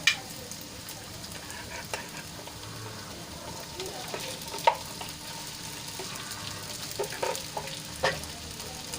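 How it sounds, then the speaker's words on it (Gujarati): Sago pearls tipped into a pan of sautéed potatoes and stirred, giving a low, steady sizzle with occasional sharp scrapes and clinks of the spoon against the pan; fairly quiet, with no talking. "તો બટેટાને સરસ રીતે સાંતળી લીધા છે તો હવે એમાં આપણે સાબુદાણા એડ કરીશું"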